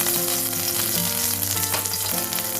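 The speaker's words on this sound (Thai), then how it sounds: "ใส่น้ำมันลงไปนิดนึงนะคะ เพื่อที่จะ เอาพริกแกงไปผัดให้หอมค่ะ" Red curry paste fries in a little hot oil in a pan, a close, continuous crackling sizzle with soft stirring scrapes throughout and no talking.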